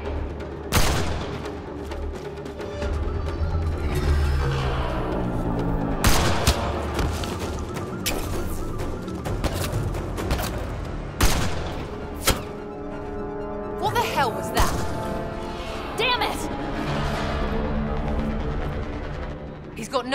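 Sniper gunfire from the video game Mass Effect Andromeda, with sharp loud shots scattered through a dense battle soundscape of impacts and thuds, mixed under game dialogue and music.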